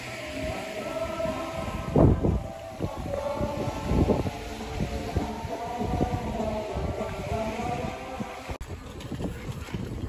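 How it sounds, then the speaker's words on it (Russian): Gusty wind in a park in Sevastopol buffets the microphone in rumbling surges, with a low background drone and intermittent knocks, no clear talking. "Поднялся ветер, конечно, уже не то."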